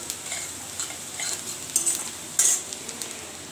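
Onion and chopped tomato frying in a pan for ghugni, a faint hissing sizzle with light spoon clicks and a couple of brighter scraping strokes, no voices.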